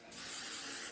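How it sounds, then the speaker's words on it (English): An aerosol can of hairspray releases one short, steady hiss lasting under a second, close and clear, with nothing else audible. "Now I'm just going to get some hairspray just to kind of lock everything in place."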